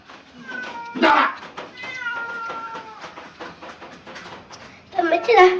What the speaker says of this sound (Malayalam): പെച്ചിനെ കാണാൻ കുറെ കൂട്ടക്കാര് വന്നിട്ടാ പൂച്ചാളും കൊതുകളൊക്കെ വന്നിക്കണേ